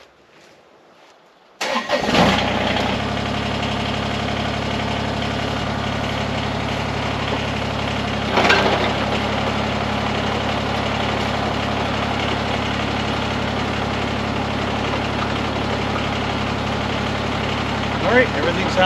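Small engine on a Woodland Mills WC46 wood chipper cranks and catches after a quiet start, then settles into a steady, loud, close-up idle with a low drone and a brief surge partway through.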